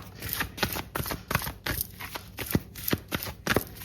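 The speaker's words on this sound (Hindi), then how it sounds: "I take 2 more cards. Actually 3 more cards." Tarot cards being shuffled and drawn, a quick run of crisp riffling flicks repeating in a steady rhythm, close and fairly quiet, with no voice.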